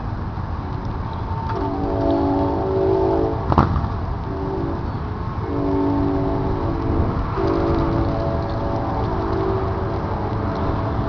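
BNSF or Northstar train passing with a continuous rumble and steady tonal horn notes sounding in long blasts, fairly loud and near.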